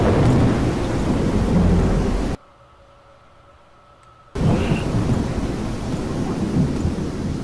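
Loud rain roars as a harsh wash of white noise in the game Rain World, cuts off abruptly to near silence with a faint hum, then floods back just as loud.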